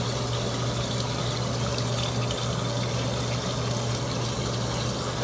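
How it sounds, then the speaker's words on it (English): A tap runs steadily during a face-rinsing skincare routine, a constant close wash of water noise with a low hum underneath, unbroken throughout. "Yes, I don't run too much water"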